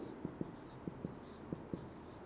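A pen scratches across a board during a lecture, six short quiet strokes in an uneven rhythm over a faint steady background hum.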